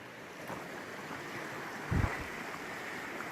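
A creek flowing beside a trail on the North Fork, a steady broadband rush of moving water heard alone, with a brief louder low thump near the middle.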